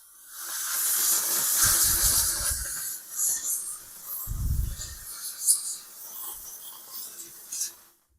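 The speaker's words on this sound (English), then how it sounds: "that's going to blast a good amount of steam" A Vivibyan steam cleaner blasts steam in a steady hissing rush lasting several seconds, with two short low thumping bursts and some rubbing noise as the jet fades toward the end.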